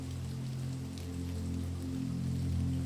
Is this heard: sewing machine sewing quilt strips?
no